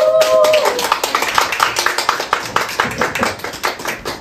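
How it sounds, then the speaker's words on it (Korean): Audience applause in a church seminar hall, welcoming a pastor's wife as the speaker, with steady dense clapping throughout; it begins under a brief tone. "박수로 환영하도록 하겠습니다"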